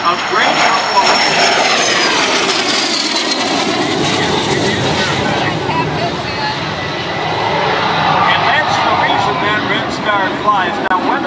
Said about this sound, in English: a two-seat, single-engine jet aircraft of great performance